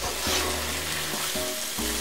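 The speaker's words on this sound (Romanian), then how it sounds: "Merele și dovleacul s-au călit suficient. Le-am ținut aproximativ 20 de minute în cratiță la foc mediu." Apples and pumpkin for a strudel filling sauté in a saucepan over medium heat, a steady close sizzle broken by the repeated scrape of stirring.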